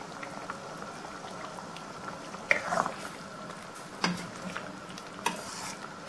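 Egg gravy bubbles gently in a pan on low heat, a soft continuous simmer with a few faint pops and clinks from a utensil.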